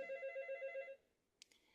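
A telephone rings with a close, rapid trilling bell that pulses steadily for about a second and then stops, followed by faint clicks.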